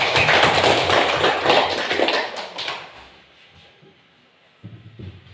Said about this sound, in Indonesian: Iya, tepuk tangan untuk kelompok 2.